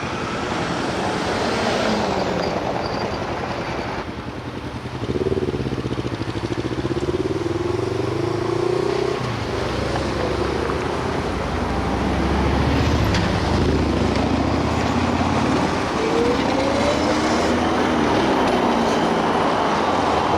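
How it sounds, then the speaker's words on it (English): Traffic rumbles through a busy downtown intersection in Yekaterinburg, at Lenina and 8th of March Street, with cars and people, a continuous low engine drone heard from inside a moving car, with passing vehicles swelling and fading over about twenty seconds. "Lots of cars, lots of people"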